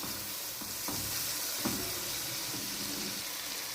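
Chicken saji masala being stirred and mixed in a pot: quiet continuous sizzle with a few soft spoon knocks and scrapes against the metal, no talking.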